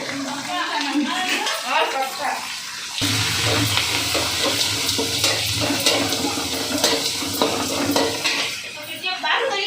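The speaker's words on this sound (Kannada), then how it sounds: "ಈರುಳ್ಳಿ ಕರಿಬೇವು ಎರಡನ್ನೂ ಜೊತೆಗೆ ಸೇರಿಸ್ಕೊಂಡು ಗೋಲ್ಡನ್ ಬ್ರೌನ್ ಕಲರ್ ಬರೋವರೆಗೂ ಫ್ರೈನ ಮಾಡ್ಕೋಬೇಕು" Onion and curry leaves fry in a pan, a loud and close crackling sizzle that jumps up sharply after a quieter start with scraping and clatter. It carries on steadily beneath a voice that talks over it.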